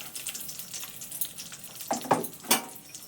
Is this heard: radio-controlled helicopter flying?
no